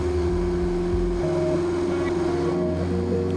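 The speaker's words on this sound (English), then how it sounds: "An acoustic spectacle of the fully faired engine under the glass dome is provided by pop-up valves" A turbocharged Alfa Romeo 4C with a 240 hp engine drives at speed, a loud steady engine drone with rising whine and gear shifts, heard close and continuous with road and wind rush.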